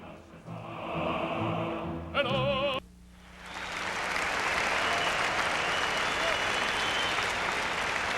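A capacity stadium crowd at Giants Stadium bursts into loud, sustained applause and cheering that swells and holds. Before it, a voice talks over music ending in a short tonal jingle.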